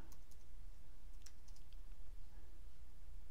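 Bursts of typing on a computer keyboard, quick light clicks clustered near the start and around the middle, heard faintly over a steady low hum with no talking.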